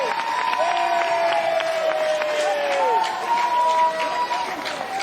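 A college baseball crowd at an NCAA tournament game between Texas A&M and Duke gives a steady wash of cheering and applause, distant and continuous beneath voices talking throughout.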